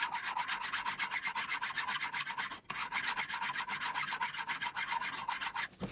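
Guitar fret ends being filed to a slight bevel along a fretboard, a close, fast rhythmic rasping of back-and-forth strokes with one brief pause midway.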